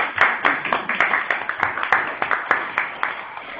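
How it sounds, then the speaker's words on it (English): A small group on a weekly call claps in a quick, uneven rhythm, each clap distinct and close, sounding thin and somewhat compressed, with no talk over it. "So just please a round of applause for everybody who worked on this."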